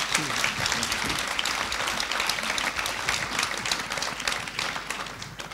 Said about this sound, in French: On peut peut-être simplement l'applaudir une fois